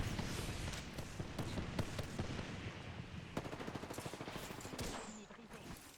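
Rapid automatic gunfire crackles in bursts during an Apex Legends firefight, dense and fairly faint, with scattered single shots and a brief lull near the end.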